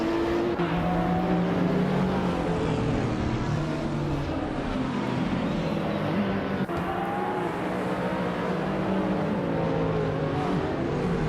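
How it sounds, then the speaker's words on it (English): Race cars in a racing video game roar continuously with layered engine drones and shifting pitches as several cars run together, a steady loud mix with no talking. "The race has just started, and the top three drivers are Pippi Langstrom in first place"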